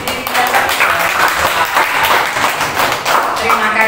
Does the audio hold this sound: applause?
yes